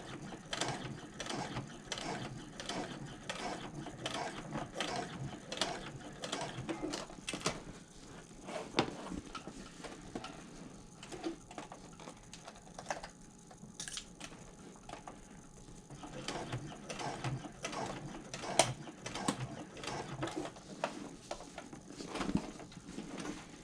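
A sewing machine topstitches a handbag with irregular bursts of mechanical clacking and ratcheting stitches, separated by brief pauses while the material is moved, close and moderately loud.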